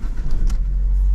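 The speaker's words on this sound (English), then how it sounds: "Starting the engine." A 2016 Ford Focus 2.0 with 67,426 miles cranks and starts, a brief starter whir catching into a steady, close idle rumble that holds to the end.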